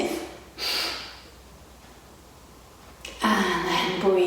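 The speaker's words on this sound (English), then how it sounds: "see if you can sniff." Sharp nasal sniffs taken while holding a full, deep breath, two short bursts separated by a quiet pause, close and clear with no talking.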